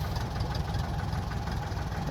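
A Thai E-taen farm vehicle engine runs steadily, a close, loud low chugging idle with a knocking, vibrating rhythm and no talk over it.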